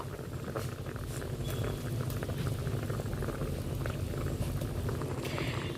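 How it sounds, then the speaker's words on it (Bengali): Rasgulla simmer in bubbling sugar syrup, a steady, close boiling burble with soft popping bubbles that runs continuously at moderate volume. "চিনির সিরাপের মধ্যে রসগোল্লাগুলো 10 মিনিট থাকার পর এগুলোকে নামিয়ে নেব।"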